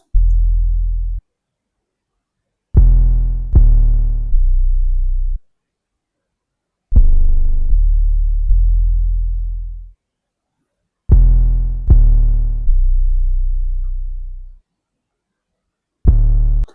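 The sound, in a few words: 808 bass in R&B beat verse section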